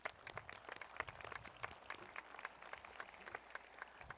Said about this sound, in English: Let's give them a welcoming hand of applause.